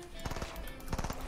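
Rapid bursts of automatic gunfire in a Fortnite match, two short volleys of quick repeated shots, close and loud, with a faint voice under them.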